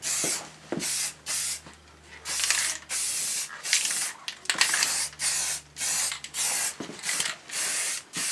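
Spray gun laying a final paint coat onto a Triumph motorcycle bash plate in a home garage, with repeated short hissing bursts of about half a second to a second each, separated by brief pauses, close and fairly loud.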